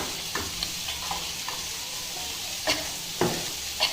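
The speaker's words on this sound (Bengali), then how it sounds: "এখন মশলার ভিতরে আমরা মাছটা কষিয়ে নেব।" Fish stirred into fried spice paste for a cauliflower curry, with a steady close sizzle and a few sharp scrapes of the spoon against the pan.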